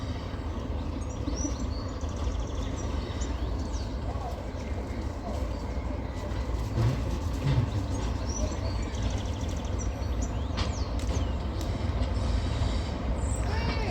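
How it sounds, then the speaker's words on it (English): A diesel train rolls into Corfe Castle station on the Swanage line, a low rumbling engine drone building under light background noise with faint rail squeals and bird calls, while people talk nearby. "This time we've got a diesel train coming in."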